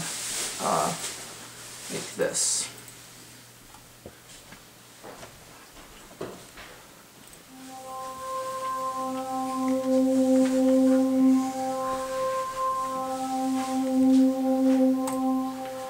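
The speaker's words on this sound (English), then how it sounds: "It's called a green table synthesizer," Maelstrom green table synthesizer with an effect: a person speaks first, then a steady, fairly loud held chord of sustained synth tones enters and rings on to the end.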